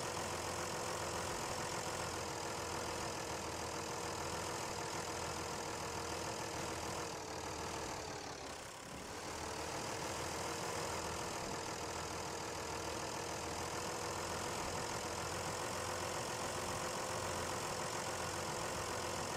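A tractor in the SnowRunner game strains to pull a loaded Thar truck stuck in mud, a steady loud droning engine roar that holds without break, dipping briefly midway.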